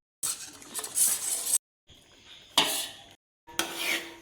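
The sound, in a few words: stirring ragi powder into coconut milk in a pot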